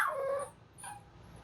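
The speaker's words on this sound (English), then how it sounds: "We have a puppy." Puppy giving two short high whimpers, close and fairly clear, with a brief pause between them in a quiet indoor room.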